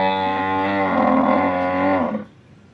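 A local Banaskantha cow gives one long, loud, close moo lasting about two seconds. The call ends abruptly, leaving quiet farmyard background.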